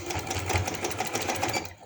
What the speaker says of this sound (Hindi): पहले तो 1 पैर की सिलाई के साथ ही इस तरह से मैं इसके साथ इसे अटैच कर देती हूँ।